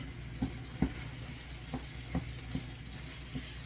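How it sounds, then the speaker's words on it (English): Plant-based ground meat sizzles in a hot pan with olive oil, with soft steady frying hiss broken by a few sharp pops and spatters. "Impossible meat, when you're frying that up, it splatters."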